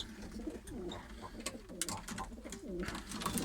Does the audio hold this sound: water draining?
no